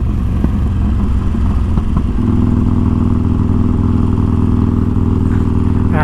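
A tuned Harley-Davidson Forty Eight V-twin idles loud and close, its low rumbling pulse steady after a brief revving burst, with faint crackles near the end.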